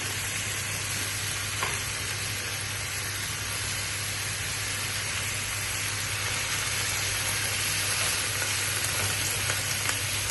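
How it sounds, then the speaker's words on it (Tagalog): Tomatoes fry in a pan for Filipino sarciadong bangus with a steady, close sizzling hiss that runs unbroken throughout, with a few faint clicks and no talking. "Lutuin lang natin yung kamatis"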